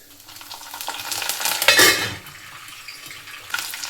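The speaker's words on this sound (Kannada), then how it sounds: "ಸ್ವಲ್ಪ ಎಣ್ಣೆ ಹಾಕ್ಕೊತೀನಿ, ಚೂರು ಕಡಲೆಬೇಳೆ, ಇದೆಲ್ಲ ಕಾಯ್ತು. ಇಷ್ಟೊತ್ತಿಗೆ ಕೌಂಟರ್ ಎಲ್ಲ ಕ್ಲೀನ್ ಮಾಡ್ಕೊಂಡ್ಬಿಡ್ತೀನಿ. ಸ್ವಲ್ಪ ಸಾಸಿವೆ" Chana dal and mustard seeds frying in hot oil in a pan give a close, steady sizzle that swells briefly in the middle, with light stirring and a few utensil clinks.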